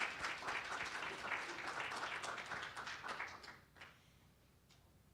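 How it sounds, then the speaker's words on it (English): Applause for staff at the National Center at a Native Edge Institute gathering in Washington D.C., a dense, steady round of clapping that fades out over the last couple of seconds. "can we have a round of applause for everybody at the National Center"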